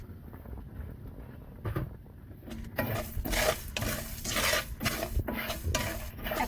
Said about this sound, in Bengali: এখানে একটা শুকনো মরিচ দিলাম। এটা অনবরত নাড়তেছি আমি এখানে।